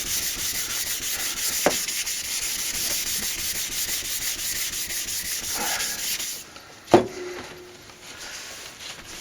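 Sandpaper on a sanding block rubs back and forth over a lacquer finish, a continuous close scratchy rasp that stops near the end, followed by a sharp knock as the block is set down.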